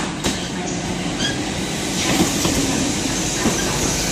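A Great Western Railway Class 800 unit, 800-020, moves through Exeter St David's station in the evening, a steady loud rumble of wheels and running gear with faint clicks and a brief squeal, no voices.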